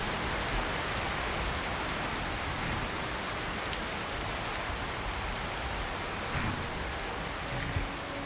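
Steady rain pours down in Skyrim Special Edition, a dense, even hiss of falling drops with faint spattering on surfaces, continuous and fairly loud with no voices.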